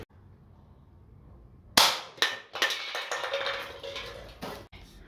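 A six-inch Colt Python airsoft revolver fires BBs into empty cans: after a quiet start, a sharp loud crack hits, followed by several quick metallic impacts and clatters ringing out close by.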